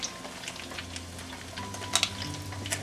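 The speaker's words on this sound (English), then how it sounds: "We'll just have to sear it a little bit longer then." A steak sears in a pan of oil that is not yet fully hot, giving a steady close crackling sizzle with scattered sharper pops and a low background hum, with no talking.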